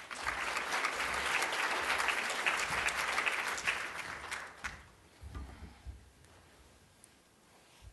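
An audience at a conference breaks into steady, full applause for an arriving speaker, then thins out into scattered claps and rustling.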